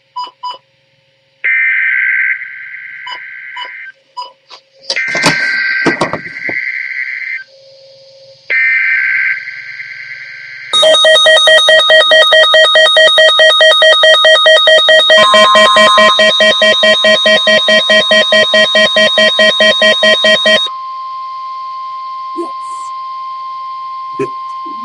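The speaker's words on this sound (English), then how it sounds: "This is a test of the All Hazards NOAA Weather Radio Warning device." A NOAA Weather Radio weekly test plays a series of electronic alert tones: short pulsed data bursts, then a long, loud steady warning tone lasting about ten seconds, followed by a quieter constant tone.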